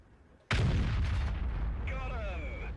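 A single heavy cannon blast from the FV215b 183 tank destroyer in World of Tanks, a sudden loud boom with a long rumbling tail, followed by a faint whining ring.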